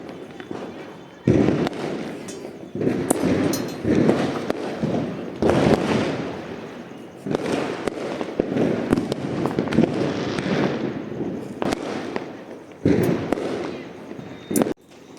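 Diwali firecrackers and fireworks burst in a series of loud, close booms and crackles, each followed by rumbling fizz, with short quiet gaps between bursts and voices talking now and then.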